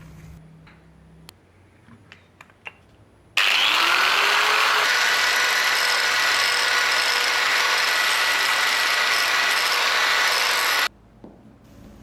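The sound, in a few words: angle grinder shaping resin sword blade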